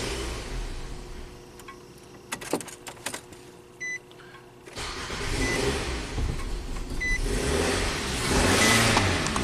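A Nissan Sentra running rough with the intake hose off: faint clicks and a cranking sound, then the engine catches and revs up loudly, rising and surging toward the end.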